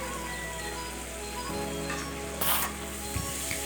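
Spiced masala sizzling steadily in a pan after a splash of water is added, a continuous hissing fizz with a brief louder stirring scrape midway, close and without speech.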